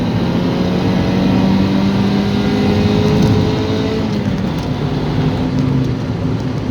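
A red Honda Civic EK driving with a steady engine drone and road noise, the gearbox grinding faintly during a shift, continuous and close throughout.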